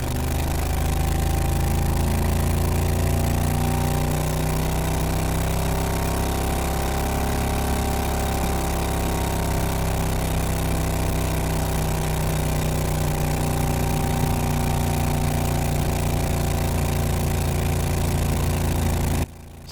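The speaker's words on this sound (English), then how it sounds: "let's take this corner in fourth gear and let the CVT drive do all the work" A Renault car fitted with a Predator 670 engine and CVT drive runs continuously through a corner, its engine drone steady and loud with layered harmonic hum, held back on throttle, no voices.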